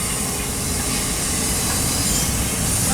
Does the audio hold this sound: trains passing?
yes